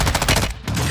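Rapid automatic gunfire in Call of Duty Warzone 2, a dense, loud burst of repeated shots with a brief gap before firing resumes.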